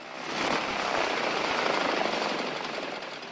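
A Cessna T-41 Mescalero trainer's piston engine roars from behind a building at an Air Force training field, a dense, steady drone that swells in quickly and holds fairly loud, without talking.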